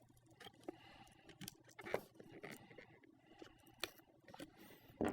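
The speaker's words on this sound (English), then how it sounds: "take that X-Acto knife, and just free up all the sides" An X-Acto knife slices through the glued edges of a GoPro Hero5 Black box: quiet, scattered scraping and ticking cuts come in short irregular bursts, with a sharper snap at the very end.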